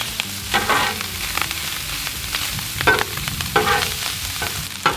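Lobster with butter and garlic sizzling on a Blackstone griddle, a steady close frying hiss with intermittent scraping and stirring from a spatula, no talking.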